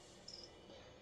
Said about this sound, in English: I accidentally got released about 100 crickets, whatever the supply was, into my room